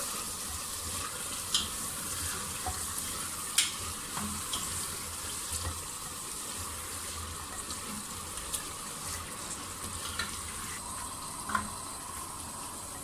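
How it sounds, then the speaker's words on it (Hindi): Mashed turnip frying in a pan while being stirred, a soft continuous sizzle with scattered scraping and tapping of a spoon against the pan, quiet and close. "अब एक एक चम्मच मैं इसमें डालती जाऊंगी और साथ साथ भूनती जाऊंगी"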